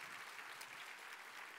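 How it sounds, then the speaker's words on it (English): Audience applause at a corporate sales meeting, very faint and distant, a soft continuous wash of clapping. "please give a big round of applause to the Atomy CEO"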